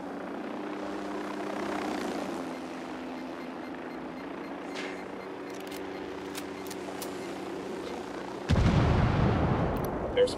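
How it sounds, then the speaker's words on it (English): Helicopter in the tactical shooter game Ghost Recon, a steady low rotor drone holding for several seconds amid game ambience, then a loud burst of noise near the end. "We got a chopper."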